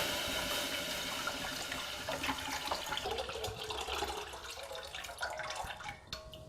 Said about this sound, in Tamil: அதில் 1 லிட்டர் தண்ணி ஊற்றிக்கணுங்க.